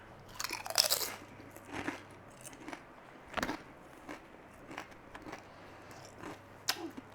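Someone bites into crunchy salt and vinegar potato peel crisps, made from baked peelings, and chews them up close in loud crisp crunches spread across the moment.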